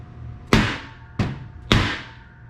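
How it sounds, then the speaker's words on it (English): A hammer strikes a 16 penny galvanized nail against a steel gusset plate three times, each a sharp, ringing metallic impact close up with a brief decay. "hit it twice with the hammer"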